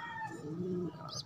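A pigeon coos close by in a short, low, rolling call, with a brief higher chirp at the end.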